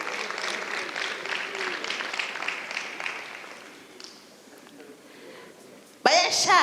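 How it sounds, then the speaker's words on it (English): An audience applauds at a matric excellence teacher awards ceremony, a broad wash of clapping that gradually fades out, followed by a quieter lull and a sudden louder sound at the end. "Let's applaud him, ladies and gentlemen."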